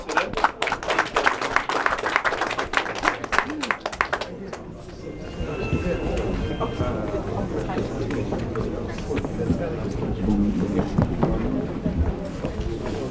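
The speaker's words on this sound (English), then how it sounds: "A round of applause for them" Brief applause at an anniversary reception in the House of Commons: a burst of close, brisk clapping for about four seconds, then it drops away into a steady murmur of crowd chatter and talking.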